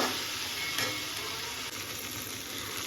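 Steady frying sizzle of cauliflower stalks with turmeric in a pan, continuous crackling hiss with occasional stirring scrapes, close and moderately loud, no voices.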